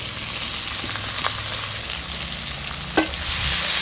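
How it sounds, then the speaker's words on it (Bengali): Chopped onion, garlic and green chili frying in oil, making a loud, steady sizzle close by. A few soft stirring scrapes and one sharp clank of a utensil against the pan sound over it, with no talking. "সব কিছু ভালো করে নেড়ে চেড়ে নিচ্ছি"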